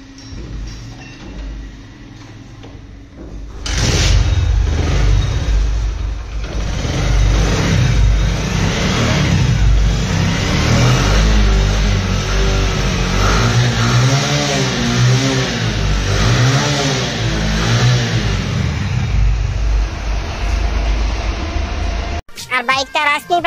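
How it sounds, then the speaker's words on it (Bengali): A Bajaj CT 100 motorcycle engine starts up and runs loud and close, rising and falling through several revs over a steady idle, with a voice talking briefly near the start. "চলেন আমরা এখন বাইকের সাউন্ডটা দেখে আসি সাউন্ডটা কিরকম আছে"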